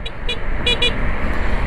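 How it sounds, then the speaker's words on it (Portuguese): Short high-pitched horn beeps from a Voltz EV1 electric motorcycle, a quick double toot then another pair, over steady road and vehicle rumble. "preventivamente eu buzino, tanto para pedestre quanto para qualquer outro veículo"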